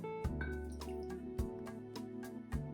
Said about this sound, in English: So we're gonna add the red wine vinegar